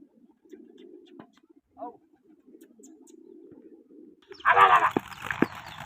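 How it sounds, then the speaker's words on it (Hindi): Pigeons at a pigeon-flying competition coo softly in a low repeated murmur, then a sudden loud flurry of wing flaps as they take off close by. "कबूतर माशाल्लाह उड़ रहे हैं"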